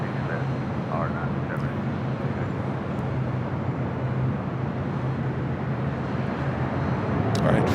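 A Finnair airliner, Flight 2 to Helsinki, takes off from runway 6 left at LAX, producing a loud, continuous jet roar that holds steady and swells slightly at the end.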